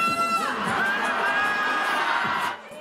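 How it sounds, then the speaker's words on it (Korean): Crowd cheering and chanting along to a pop song at a street protest rally outside the National Assembly, a steady roar of voices with whoops, ending as the noise drops off. "시민들은 노래에 맞춰 환호성과 구호를 외칩니다."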